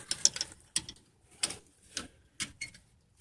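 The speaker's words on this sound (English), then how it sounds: "Unless I can pop that off with a screwdriver." Screwdriver prying at a trailer hitch part on a Suzuki SX4, a handful of sharp metallic clicks and scrapes spaced irregularly, close and fairly quiet.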